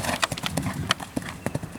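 Horse hooves clip-clop in a quick, uneven cantering rhythm during jumping training of a young horse at a riding school, the beats close and fairly loud with a brief whinny-like tone.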